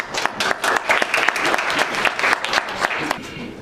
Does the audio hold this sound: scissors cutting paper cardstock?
no